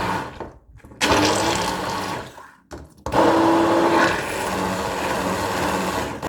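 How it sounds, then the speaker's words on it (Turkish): Blender pureeing lentils, eggs, yogurt and oil into a smooth batter for a flourless, gluten-free pan bread: a loud, steady motor whir starting after a brief pause, cutting out for a moment and then resuming strongly to the end. "Ve bunları blenderdan geçiriyorum"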